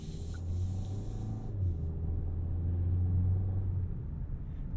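Low, steady engine grumble of a Kia K4 GT-Line turbo hatchback in sport mode, heard from inside the cabin while driving, with a constant rumble and no talking.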